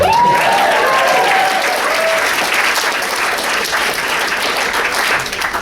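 Wedding guests at a reception applaud and cheer loudly for the best men, a dense, steady roar of clapping that holds for several seconds, with a few whoops rising above it early on.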